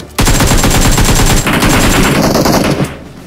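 Rapid automatic gunfire in PUBG Mobile, a loud sustained burst of closely spaced shots running for about three seconds before cutting off, alone without talk.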